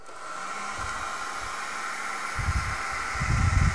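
A heat gun blows a steady, close hiss of hot air onto a Galaxy Note 3 to loosen its glass, with soft low rumbles as it moves.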